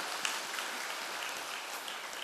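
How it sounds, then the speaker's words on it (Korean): A church congregation claps together to welcome newcomers, a steady dense wash of applause sustained evenly throughout without pauses. "우리 한번 박수로 한번 환영해 주시길 바라겠습니다"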